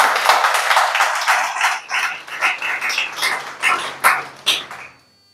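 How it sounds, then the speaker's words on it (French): Audience at a French-speaking church teaching session clapping in a loose, uneven rhythm, distinct claps near and fairly loud, thinning out and ending abruptly. "Applaudissez quand même."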